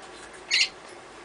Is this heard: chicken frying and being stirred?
no